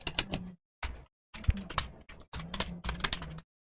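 Typing on a computer keyboard that is acting up, with a bracket key not working, while entering text in MS Word: several close bursts of rapid keystrokes separated by short pauses, with no talking.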